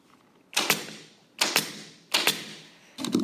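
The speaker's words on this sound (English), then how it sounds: "out go my staples to the edge" Four sharp staple gun shots drive staples into upholstery during diamond tufting, each a loud snapping thwack with a double hit, spaced roughly evenly apart and close up in a quiet room.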